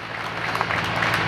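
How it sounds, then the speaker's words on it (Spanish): An audience at an anniversary cavalcade celebration in Palmillas, Tamaulipas, applauds former municipal presidents, a steady wash of clapping from many hands that builds slightly over a low hum. "El aplauso para nuestros expresidentes municipales."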